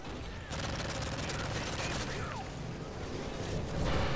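Sustained automatic gunfire sprays in MW3 multiplayer, a dense, continuous rattle of rapid shots under steady game noise for several seconds, moderately loud and without a break.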